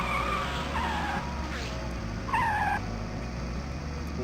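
Race car tires skid and squeal in the PC racing game Pouce Pouce entre dans la Course, with two brief screeches over a steady engine rumble and background game noise.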